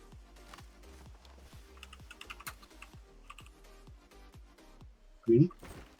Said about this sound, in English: Sounds like Pete's typing already.